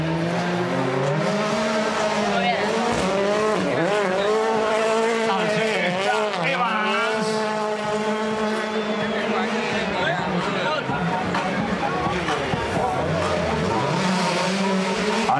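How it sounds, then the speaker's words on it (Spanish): A Volkswagen Polo rally car on a gravel rally stage in Villa de Merlo, Argentina, its engine note loud and continuous, rising and falling through gear changes and revs, with a commentator talking over it throughout. "Escuchá, escuchá lo que es una melodía de ese motor."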